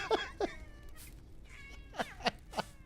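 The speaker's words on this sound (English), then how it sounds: "And you can shoot this cat, which I always feel bad about, but it is pretty funny." A cat in the video game Full Metal Furies meows each time it is shot, giving about six short, separate yowls at uneven intervals over a quiet background, with no talking.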